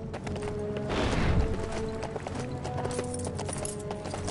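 Hooves clip-clop in the LEGO Lord of the Rings video game, a muffled trotting rhythm that swells briefly and then keeps up steadily, with game music or ambience underneath.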